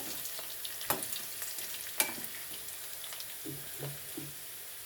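Lightly browned onions with kasuri methi frying in a pan for dal fry, a low steady sizzle with a couple of sharp utensil clinks and soft stirring scrapes, close by and without talk.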